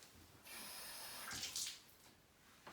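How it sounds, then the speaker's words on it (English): Tap water runs through a trombone mouthpiece, a close, quiet hiss of flowing water that starts abruptly, gurgles and splashes in the middle, then eases off before a brief final spurt. "So I'm just going to wash it through with a little bit of water."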